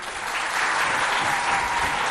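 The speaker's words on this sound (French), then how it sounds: "On applaudit, s'il vous plaît" An audience at a school event claps in a brief, dense burst of applause that swells slightly and holds steady, close and loud.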